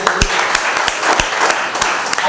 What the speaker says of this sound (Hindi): स्वागत है आपका, जोरदार तालियों से